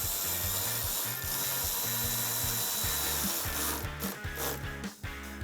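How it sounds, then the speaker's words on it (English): A ratchet with an 8mm socket tightens a factory bolt during a cold air intake install on a 2009-2021 Dodge Challenger 5.7L, giving a close, rapid run of repeated clicking strokes that slows near the end. "I'll use my 8mm socket on my ratchet to tighten down the factory bolt"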